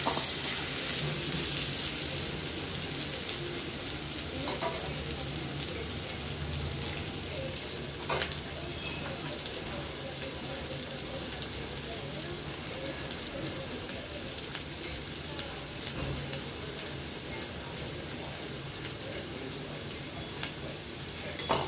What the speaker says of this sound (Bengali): কুচি কুচি করে কাটা পেঁয়াজ, একটু সটে করে নেব।